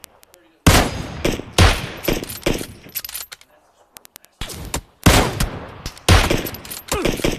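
Gunfire in the mobile battle-royale game PUBG Mobile: loud bursts of rapid automatic shots in several clusters, separated by brief pauses, with no talk.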